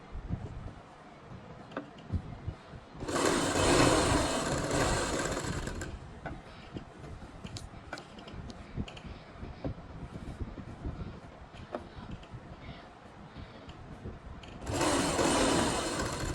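A sewing machine stitches the hem of a kachhera in two bursts of fast, steady whirring, the first lasting about three seconds and the second coming near the end. Quieter handling sounds of cloth fill the gap between them.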